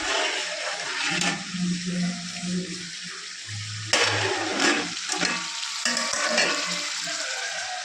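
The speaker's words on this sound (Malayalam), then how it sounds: "ആ നേരം കൊണ്ട് കുറച്ച് പാത്രങ്ങളുള്ളതൊക്കെ കഴുകി വെക്കുന്നുണ്ട്" Running tap water splashes into a sink while dishes clatter and scrape, the flow starting and stopping in bursts nearby.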